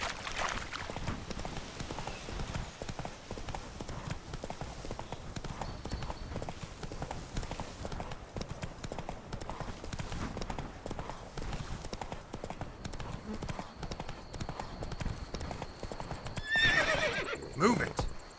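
Roach, the horse in The Witcher 3: Blood and Wine, gallops with a steady rapid clip-clop of hooves throughout. A whinny rises near the end, and game voices sit faintly under the hoofbeats.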